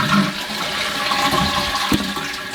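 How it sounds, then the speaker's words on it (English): A toilet with a newly replaced handle is flushed close up, giving a loud, steady rushing swirl of water with a brief gurgling surge near the end. "let the tank fill up, give it a test flush."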